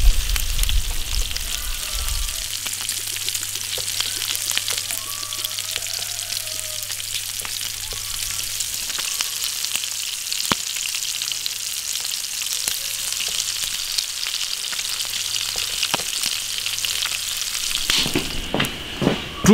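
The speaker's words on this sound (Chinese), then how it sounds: "把这个五花肉多翻几面，把它的油给它煎出来" Pork belly sizzles in a hot iron wok while the fat renders out, a continuous close crackling fry with light stirring clatter and a few sharp clicks near the end.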